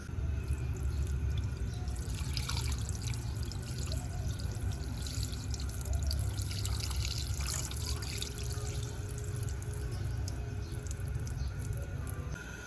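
Water drains from washed rice, pouring and trickling steadily for several seconds, a continuous splashing flow close by with no talking.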